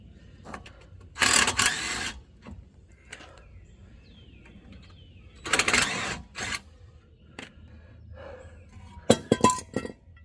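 A metal brake bracket bolt from a 2007–2014 GMC Yukon or Chevrolet Tahoe front brake job drops and clinks sharply nearby in a few bursts, with quieter metallic ticks and handling noises between them.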